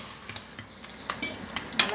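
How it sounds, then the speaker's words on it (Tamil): A spoon stirs ground mint paste into spicy mutton biryani masala in a new kadai, giving soft scraping and light clinks over a faint sizzle, quiet and close with no talking. "அந்த பேஸ்ட்டையும் சேர்த்து நல்லா மிக்ஸ் பண்ணிக்கலாம்."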